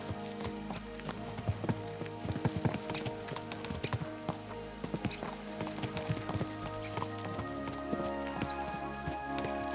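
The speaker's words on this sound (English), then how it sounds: "Let's really spur these horses on, eh?" Steady clip-clop of horse hooves at a walking pace in the video game Kingdom Come Deliverance II, fairly quiet, over a low droning background with an occasional snort.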